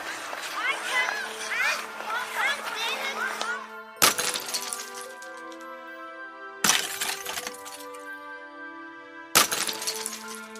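Falling icicle breaking, heard as three sharp glassy crashes each followed by a ringing, bell-like shimmer that decays; the first comes after a dense stretch of tinkling and cracking, the impacts loud and close.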